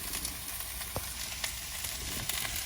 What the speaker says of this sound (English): The onion cooking in the pan.